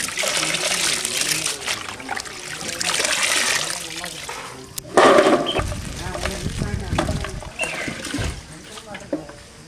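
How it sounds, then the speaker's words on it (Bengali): Water runs and splashes while finely chopped vegetables for chow mein are washed, making a steady trickle with louder splashing bursts, and a voice talks over it. "এখন খুব ভালো করে ধুয়ে নেব"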